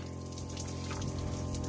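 An outdoor shower runs on a sunny desert trail stop, a steady close wash of spraying water with a low pump-like hum beneath, unbroken for the whole stretch.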